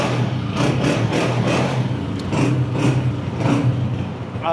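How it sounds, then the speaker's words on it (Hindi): A 2022 Honda 125 motorcycle engine runs close by, its steady thumping idle pulsing with a few throttle blips, heard alone without talk. "इंजन चेक करो गाड़ी का, साउंड सुने"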